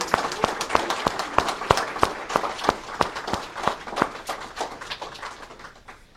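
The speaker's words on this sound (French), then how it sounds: "On applaudit Germain." An audience claps for Germain at an emotional family tribute: steady, fairly close applause with sharp regular claps that fade slightly toward the end.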